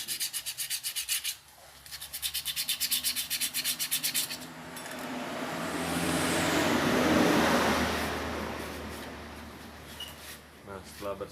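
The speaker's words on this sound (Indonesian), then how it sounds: "Nah seperti ini kita amplas dulu." Sandpaper rubbed by hand across a scooter CVT component to clean off black residue, a steady close rasping scrape with a few pauses, under a low background hum.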